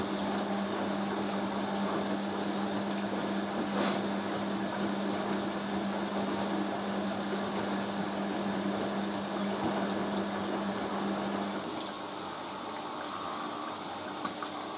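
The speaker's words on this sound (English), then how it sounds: "Love the sound of the water going in." A Hoover A3060 Electronic 1100 washing machine fills with water, a steady rushing gush with a low pump-like hum that runs unbroken for most of the clip, then drops to a quieter flow near the end.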